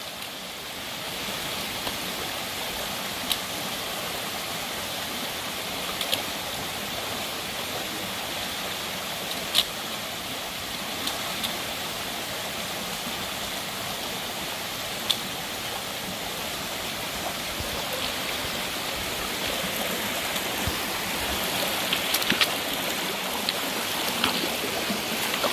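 Steady broadband rush of a stream during a wet-foot crossing in the Western Uplands in autumn, continuous and close throughout with no talk.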